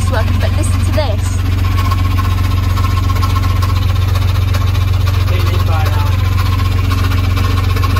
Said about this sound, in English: Testing to see if the alternator's working. But listen to this.